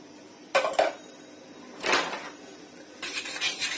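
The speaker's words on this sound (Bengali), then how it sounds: "এখন এই তেলের মধ্যে আমি শুকনো উপকরণগুলি দিয়ে দিচ্ছি।" Dry ingredients for a chocolate cotton cake are tipped into oil in a bowl, giving three short rustling, clattering pours with quiet gaps between them.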